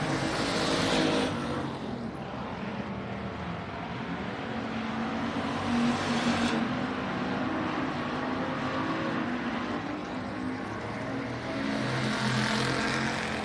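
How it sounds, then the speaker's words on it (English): Race cars in a heat race at Texana Raceway roar around the track in a steady, loud engine drone, swelling as they pass near and easing slightly between passes, with no talk over it. "Triton's now got about a half a length straightaway lead over the 56 of Craig Pursley and the 55M of Monty Chamberlain"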